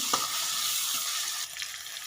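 Ginger garlic paste, chopped tomatoes and onions are stirred together in a pan, giving a soft, quiet frying sizzle with faint scraping.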